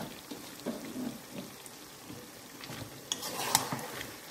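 Chicken being stirred with chopped tomatoes and green chillies in a pan for a Bengali chicken kosha, giving soft, irregular scraping and gentle sizzling close by, with a few sharper clinks of the spoon near the end.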